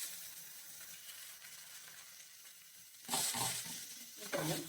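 Prawns hit a pan already frying with ginger, garlic and green chilli, bursting into a loud close sizzle after a quieter stretch, with a second surge of crackling near the end.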